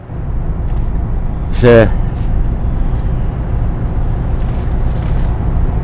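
Steady low engine drone of a Volvo FH 600 truck with a 12-speed gearbox on the road, continuous and fairly loud, with a brief tonal sweep near the start and someone speaking briefly.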